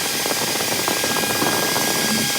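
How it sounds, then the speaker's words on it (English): A drill drives the screw home on a butterfly bracket of a towel rack, giving a steady, close whirring buzz that holds for a couple of seconds without a break. "take a screwdriver or drill and tighten it down"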